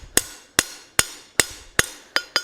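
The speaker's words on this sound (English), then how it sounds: "Hammer both those straight down." Hammer striking spline stock while forging a decorative coal rake; seven sharp, ringing metallic blows land in a steady rhythm about every 0.4 seconds, loud and close, each decaying quickly with no talk.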